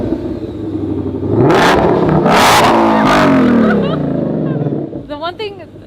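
A supercar launches off the line in a drag race, its engine roaring loudly and climbing through quick gear changes before fading into the distance, with people talking over the end.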